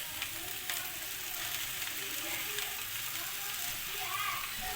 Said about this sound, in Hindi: अब हम इस भिंडी को फ्राई करेंगे।